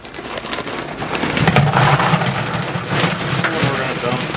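A bag of lava rock is dumped into a filter basket for a fish pond, a loud, close, continuous rattling pour of small stones that sounds much like heavy rain.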